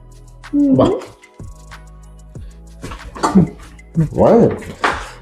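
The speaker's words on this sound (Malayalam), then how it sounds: "ഇത് ഏകദേശം 1 കപ്പ് തിളച്ച വെള്ളമാണ്. ഇത് നമ്മൾ ഉരുളിയിലേക്ക് ഒഴിക്കുന്നുണ്ട്." About a cup of boiling water is poured into an uruli pan for jaggery syrup, a splashing pour heard in bursts under close conversational talk.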